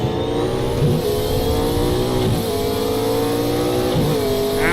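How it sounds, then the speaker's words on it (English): Race car engine in a racing video game revving hard and steadily throughout, with pitch sweeps as it shifts gears, loud and close. "Listen to the noise of this car."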